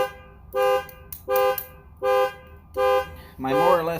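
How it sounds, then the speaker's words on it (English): A car alarm sounds four loud, evenly spaced horn-like blasts, each roughly a quarter second long, then breaks into a warbling, siren-style wail at the end. It is heard outdoors in the cold. "My more or less sister-in-law set off her car alarm."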